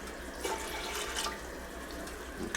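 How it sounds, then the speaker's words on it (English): Tap water runs over cucumbers in a kitchen sink while homemade pickles are prepared, a soft steady splashing stream with small fluctuations, moderately close and fairly quiet, with no speech. "in the background I still have that water running over our cucumbers"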